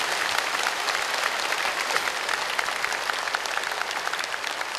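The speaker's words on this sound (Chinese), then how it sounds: "那么如果有少许的优点，那么就给我多少一点掌声啊" A large audience at a Buddhist dharma lecture in Singapore applauds, a dense, continuous clapping that stays loud and even from start to finish.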